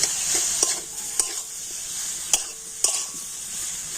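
Melting jaggery and grated coconut stirred in a pan, a soft bubbling sizzle under a few sharp clicks of a spoon against the pan's edge, close and alone.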